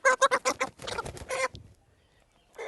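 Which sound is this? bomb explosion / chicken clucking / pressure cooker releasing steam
chicken clucking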